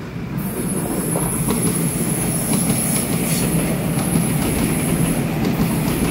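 Train 4135, a silver-green Smile-liveried EMU running on the Yilan line from Fulong toward Shulin, rolls past with a continuous, loud, near rumble of wheels on rail and a sustained high-pitched wheel squeal above it.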